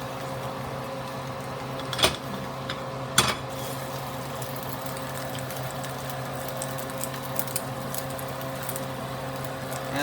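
An over-easy egg is flipped in a pan: two distinct metallic scrapes of a spatula stand out against a steady hum and faint sizzle, with small clicks afterward.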